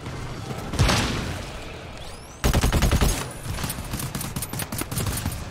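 Automated sentry turrets open fire in the co-op shooter GTFO, a sudden loud stream of rapid shots that continues in bursts after a quieter lead-in with a single swelling whoosh.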